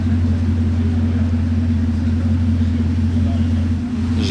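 A Bugatti Chiron Super Sport sits warming up on a Paris street, its engine holding a loud, steady low idle rumble with no revving.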